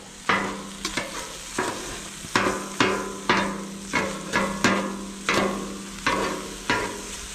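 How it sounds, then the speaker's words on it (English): Sausage being chopped with a spatula on a Blackstone griddle: about a dozen sharp metallic clacks at an uneven pace over a soft background sizzle, no voices. "Chop up the sausage."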